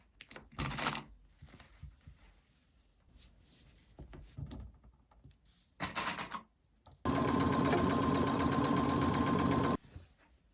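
A sewing machine stitches a bag strap in one steady, loud run of about three seconds, preceded by fabric handling and soft rustles, close up with no talking.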